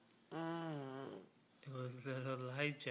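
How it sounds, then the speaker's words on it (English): A four-year-old child snores loudly while napping, one long drawn-out snore followed by a second rougher one, close to the listener. "with a big snore."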